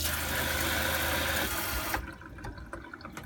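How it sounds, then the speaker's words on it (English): Water pump in a 1996 Safari Trek RV driving a strong, loud rush of faucet water that cuts off abruptly partway through, leaving a faint low hum and scattered drips. "let me turn the water pump on for you. Water works great."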